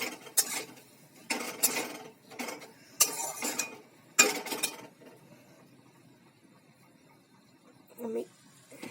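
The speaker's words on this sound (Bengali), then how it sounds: "এবারে মাথাটাকে ভালো করে নেড়ে ছেড়ে" A spoon stirs rohu fish head with red amaranth in a pan, making several bursts of clattering, scraping metal over about five seconds, then a quieter stretch with one last short scrape.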